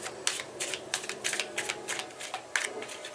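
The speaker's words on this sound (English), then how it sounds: "we're going to do 3 shuffles" Tarot cards are shuffled by hand in quick riffling bursts, a series of crisp, papery flutters and taps repeating close up and fairly soft, with no voice present.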